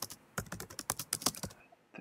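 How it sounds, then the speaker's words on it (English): Fast typing on a computer keyboard: a quick, uneven run of a dozen or more crisp key clicks, close and alone, before the tapping stops. "think that's me typing."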